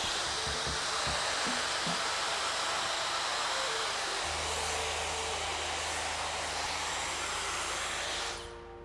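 A hair dryer blows steadily at close range while drying curls, a loud continuous whooshing hiss whose pitch shifts partway through before it cuts off near the end.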